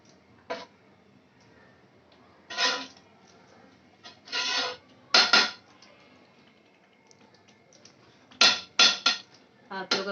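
Metal clinks and scrapes of a spoon and bowl while melted butter goes onto a tawa griddle for pav bhaji, irregular sharp taps close by with quiet gaps between.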